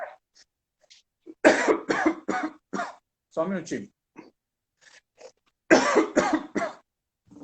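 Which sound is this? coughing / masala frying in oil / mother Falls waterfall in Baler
coughing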